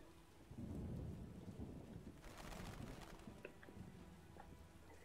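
Rain falls steadily in The Witcher video game during a storm, with a low rumble of thunder early on and scattered drips and patter over a constant hiss.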